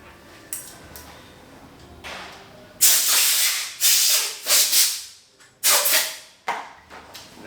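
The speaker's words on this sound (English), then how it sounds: "So for that, you're going to use a compressor." Compressed air from a compressor blasts in several loud, hissing bursts to work a grip off a mountain bike handlebar, each burst sharp-edged and close, separated by short quiet gaps.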